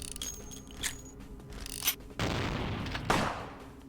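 Gunfire in the vampire role-playing game Vampire the Masquerade: Bloodlines, with a sharp crack near two seconds followed by a broad, heavy blast around 2.2 seconds and another loud burst near 3.1 seconds, amid game sounds.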